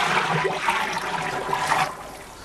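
Water pours in a steady rushing stream into a bucket for homemade soap made from used cooking oil, splashing loudly and close, then thinning out near the end.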